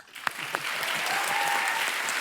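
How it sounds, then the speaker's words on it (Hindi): Studio audience applause on a comedy show, a dense, steady wave of clapping that swells in quickly and holds at full strength for about two seconds, with no talk over it. "मिक्की जी और हाकिम जी के लिए जोरदार तालियां"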